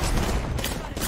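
Loud, dense bursts of gunfire in Apex Legends fill the whole moment, a rapid overlapping volley that sounds close and continuous.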